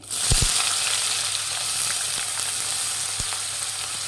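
Finely chopped onions go into hot oil with fried chana dal for lemon chitranna, giving a few sharp clacks at the start, then a steady even sizzle.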